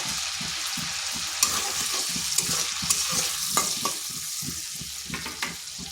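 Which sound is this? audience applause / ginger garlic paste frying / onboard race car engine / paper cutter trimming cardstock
ginger garlic paste frying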